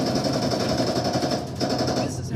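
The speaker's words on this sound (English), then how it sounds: "This is a light machine gun known as an M240 Robin." An M240 light machine gun fires a fast, continuous burst of shots, loud and close, with a short pause and then more rapid fire.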